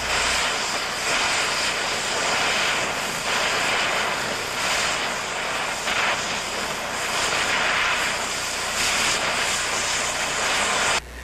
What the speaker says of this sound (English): Back the torch away and ease off the cutting jet lever to slow down the cutting jet